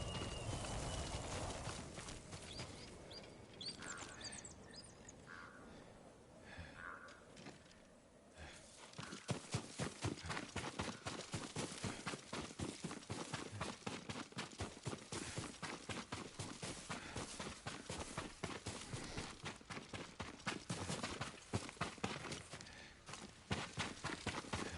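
Horse hooves clip-clop in a video game, starting after a quieter opening and settling into a loud, steady, rapid rhythm of hoofbeats that carries on to the end.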